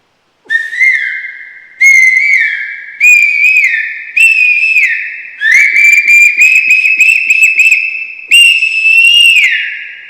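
A loud, close whistle imitates a koel, repeating a series of rising, piercing calls in short bursts, each sliding upward, with brief gaps between them.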